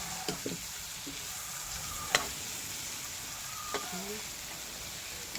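Fish frying in a home kitchen pan, a steady soft sizzle with a few sharp utensil clicks and scrapes, close and without talk.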